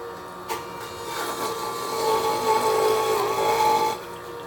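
A PURE juice press grinds carrot, apple, ginger, lime and jalapeño, giving a steady whining motor hum with rough grinding that builds and holds for a few seconds before easing off, close up with no talking.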